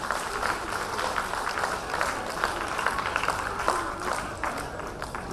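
Audience at a lecture on practical parenting claps steadily in a sustained round of applause, a dense patter of many hands filling the room for several seconds.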